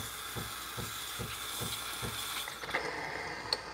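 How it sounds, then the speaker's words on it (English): A steady, close hiss from a Breville Barista Pro espresso machine steam wand runs throughout, with faint rhythmic mechanical ticking underneath and a couple of small clicks near the end. "I'm using my steam wand to heat up my cup."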